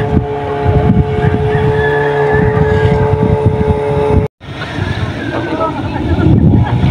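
A motorboat engine roars loudly and steadily at full throttle against a strong current, with wind buffeting the microphone; the sound cuts out for an instant midway, then returns.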